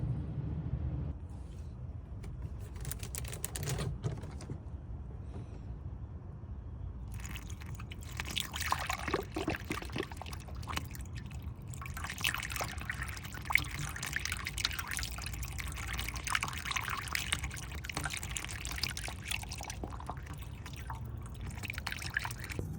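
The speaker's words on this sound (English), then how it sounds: "I will now flush out the radiator with distilled water to make sure that the coolant system is clean" Distilled water pouring and trickling into the radiator of a 2013 Nissan Maxima during a coolant flush, quiet at first, then a louder steady splashing stream with drips.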